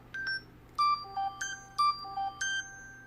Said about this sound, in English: I want to go ahead and play a ringtone for you guys.